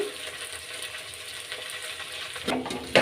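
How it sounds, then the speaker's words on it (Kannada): Sliced okra frying in oil in a pan, a steady close sizzle with faint scraping stirs, and a couple of louder clatters near the end. "ಎಣ್ಣೆಲೇ ಚೆನ್ನಾಗಿ ಫ್ರೈ ಆಗಬೇಕು ಬೆಂಡೆಕಾಯಿ"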